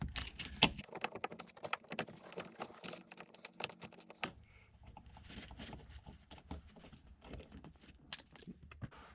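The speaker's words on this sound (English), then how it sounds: "take your needle nose pliers, and there's a tab on the top and a tab on the bottom" Needle nose pliers squeeze the plastic tabs of an A-pillar cover clip on a Honda Fit, giving quiet, quick clicks and taps in irregular bursts, close up and alone.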